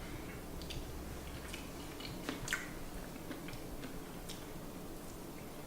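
Quiet, close chewing of vegan JUST Egg seasoned with salt and pepper, soft wet clicks and squishes recurring irregularly over a faint background hush.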